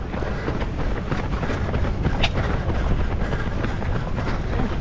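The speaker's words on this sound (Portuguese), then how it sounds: "Vento contra no Leme." Strong headwind at Leme beach in Rio de Janeiro buffets the microphone with a steady, dense roar, loud and unbroken, with no voices.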